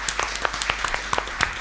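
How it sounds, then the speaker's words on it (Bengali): A studio audience at a children's quiz competition gives a short, sparse round of applause: scattered individual claps, a handful per second, moderately close and fairly faint. "জোরে একটা করতালি"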